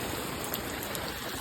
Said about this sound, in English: The rain is insane.